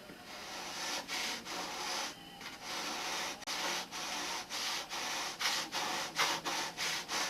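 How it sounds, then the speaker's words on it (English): Sandpaper rubs a model airplane wing in steady back-and-forth strokes, a close, continuous raspy hiss pulsing in a regular rhythm with short pauses between passes. "if you just touch it with the sandpaper, you'll see the bad spot"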